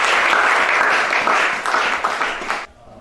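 An audience at a French-language sermon breaks into steady, bright applause that swells briefly and then cuts off sharply after about two and a half seconds.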